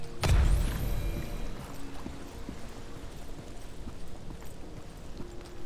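A horse gallops in the online role-playing game Lost Ark, a rapid run of hoofbeats heard near and fairly loud after a sharp thud at the start, continuing steadily without speech.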